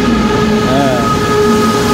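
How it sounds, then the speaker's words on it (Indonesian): An electric high-speed train pulls into a station with a loud, steady rumble and a tonal hum throughout. "Ini keretanya sudah datang nih ya."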